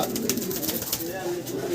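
Soft pigeon cooing, a low murmuring coo repeated through the short stretch, close by with faint background noise.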